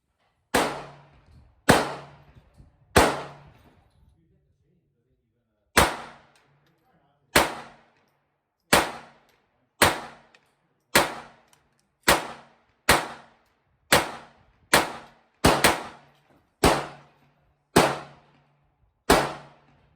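A Ruger LCP II pistol fired with test ammunition at a shooting range: about eighteen sharp, loud cracks, each with a short ringing tail, in steady spaced strings with a brief pause early on and no talking.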